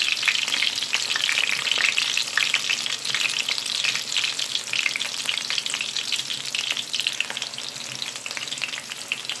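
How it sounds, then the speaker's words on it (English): Steady, dense sizzling and crackling of Trinidadian bara dough frying in a pan, loud and close, continuing without a break for the whole stretch. "Hear that sizzle?"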